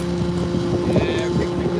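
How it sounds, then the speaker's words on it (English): Wind gusting across the deck of a commercial salmon fishing boat in snowy weather, a steady broadband rush with an engine hum underneath and voices talking over it throughout. "Oh, there's the wind."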